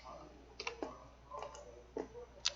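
Sharp, quiet mouse clicks come one after another while selecting elements in CAD software, spaced irregularly about half a second apart. Soft talking runs between them.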